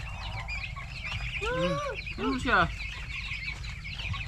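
Broiler chickens and turkeys at feeding time, a few close clucks and squawking gobble-like calls over a steady farmyard background, with brief talk nearby.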